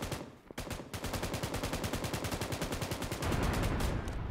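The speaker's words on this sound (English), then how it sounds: "They're getting shot at from the top of the building." Rapid automatic gunfire rattles from the top of a building in a video game, a loud, steady stream of closely spaced shots that swells slightly louder near the end with no pauses.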